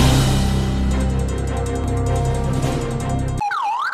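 An ambulance siren sounds in Yamoussoukro, its wailing tone rising and falling over dense background music and noise. The siren stands alone, clear and loud, for the final half-second.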